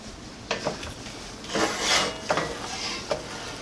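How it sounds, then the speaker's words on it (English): A spoon stirs lemon juice into rice filling for dolma in a pot, with several soft, close scraping and swishing strokes at an uneven rhythm, quiet and without talk. "Give it a stir."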